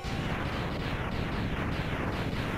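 A heavy cannon blast finishing off a boss in Mega Man X, heard as a loud, sustained burst of booming, crackling noise lasting a couple of seconds, with no voices.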